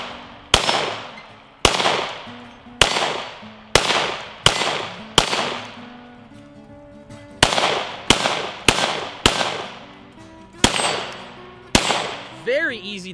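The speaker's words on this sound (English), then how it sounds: "Talk about a muzzle blast." Ruger 57 pistol in 5.7 caliber fired at a shooting range target, twelve loud sharp reports with heavy muzzle blast in uneven groups, each ringing out with a decaying echo, no talking.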